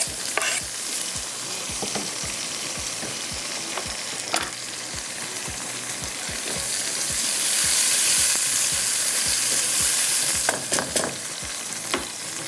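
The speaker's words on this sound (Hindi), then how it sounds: "प्याज के साथ अब हम इसमें जो डाल देते हैं यहाँ पर टमाटर" Tomatoes fry with onions in a karahi, a constant bright sizzle with repeated scraping stirs and ladle knocks, swelling to a louder hiss in the middle before settling back, with no talk.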